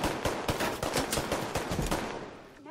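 Rapid automatic gunfire from a firefight in The Division 2, loud and close, a dense burst of overlapping shots that tails off toward the end with no talk over it.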